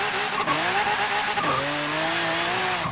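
A 1500-horsepower front-wheel-drive Lamborghini spins its tires with a steady, loud whine and rising engine tones, the note dipping and climbing again as the wheels keep breaking loose, with no voices.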